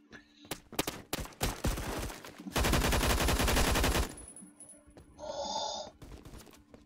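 Sustained automatic fire from a heavy gun in the first-person shooter Phantom Forces, a loud continuous burst of rapid shots after scattered single reports, followed by a brief electronic beeping tone.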